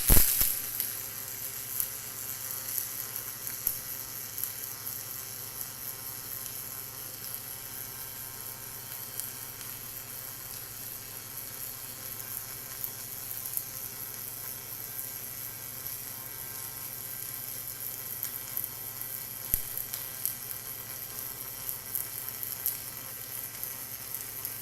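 A robotic arm lays a single-pass 3/8 inch (10 mm) fillet weld in the 1F position at 25 pounds an hour, giving a steady, continuous sizzling buzz that holds evenly for the whole stretch, with faint crackles.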